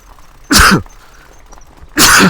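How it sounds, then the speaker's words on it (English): Two loud sneezes from a man with hay fever, about a second and a half apart, close to the mic, with only faint background noise between them. "as I get ready to sneeze"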